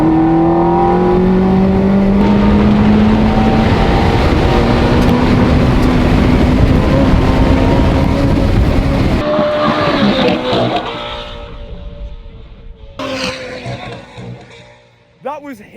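A Ferrari runs hard and fast, its engine roaring loud and close with pitch climbing steadily through a long pull, then easing off as the drone drops away, leaving quieter tail-end noise with faint voices.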